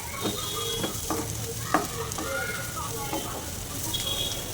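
Bitter gourd (kakarakaya) frying in a pan over low to medium flame, a steady close sizzle with scattered crackles and a few sharp stirring scrapes or clinks.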